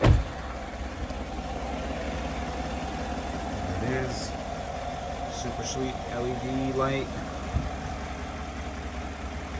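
A 2016-2018 Chevrolet Silverado truck engine idles steadily throughout with a low constant rumble, while someone talks over it and a few clicks sound.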